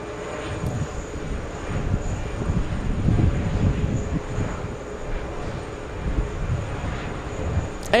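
A Virgin airliner arrives at JFK airport, its engines giving a steady broad roar at moderate distance that swells slightly midway and carries on to the end, with no talk over it.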